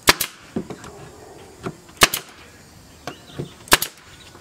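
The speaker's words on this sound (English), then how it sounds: "Now you're gonna grab your nail gun and you're gonna go nail crazy." Nail gun driving nails into the top of a wooden picnic table, several sharp bangs scattered irregularly, close and loud, some in quick pairs, with quiet gaps between shots.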